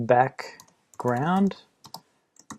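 Several soft, quick keystrokes tap on a computer keyboard while Swift code for a game scene is written. They come just after a man's close speech and fall into short, scattered bursts.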